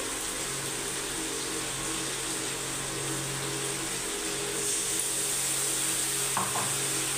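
Ground spice paste sizzles and fries in a pan with potatoes, a steady broadband hiss running throughout with a faint stir or clink near the end, no talking.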